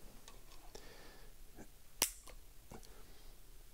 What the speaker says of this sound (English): so let's do a quick trigger pull